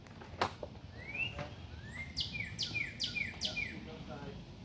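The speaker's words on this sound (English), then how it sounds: "Listen to the birds and everything." Birds chirp outdoors in a repeated run of short, bright tweets over a low background hum, moderately close and fairly clear.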